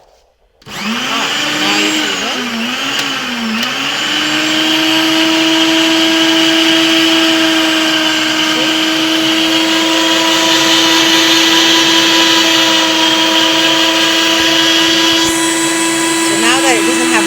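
Electric grinder milling roasted peppers for ajvar in a Serbian village: a loud, steady motor whine that starts abruptly and runs without pause, dipping slightly in pitch under load at first, with faint voices underneath.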